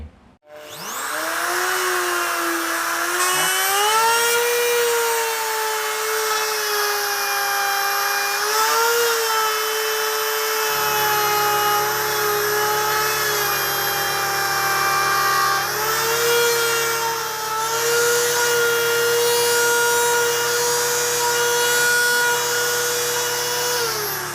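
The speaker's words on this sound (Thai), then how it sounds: "เดี๋ยวนี่คือการเจาะลงไปแต่เจาะแบบไม่ทะลุนะครับ" A power drill whines loudly and steadily, its pitch shifting slightly as it bores a blind hole about 15 mm into wood, with a lower rumble joining partway through.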